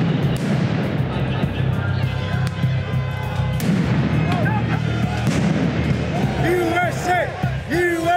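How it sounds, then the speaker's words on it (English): Police flashbangs and tear gas launchers fired at a street protest in Portland, booming bursts and pops over a dense, continuous crowd roar with shouting voices and whistling throughout. "The police eventually began pushing back using tear gas and flashbangs."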